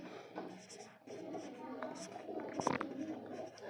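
Pen scratching steadily across paper while a math solution is written out in a Hindi-medium class 10 trigonometry lesson, a soft continuous scribble with small taps, fairly close and quiet.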